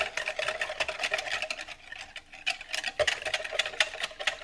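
A whisk beats a sauce of sugar and cornstarch in a bowl for General Tso's chicken, making a rapid, steady clatter of close clicks and scrapes that runs throughout without pause.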